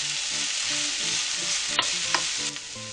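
Onion, pepper and carrot fry in a pan with a steady, close sizzle, broken by a few sharp scrapes and clacks as a utensil stirs the vegetables.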